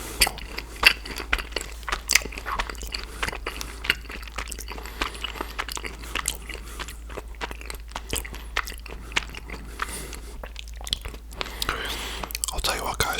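Close, crunchy chewing and biting of a chocolate bar with strawberry fruit chunks, steady wet mastication with occasional crackles over a low constant hum, intimate and near.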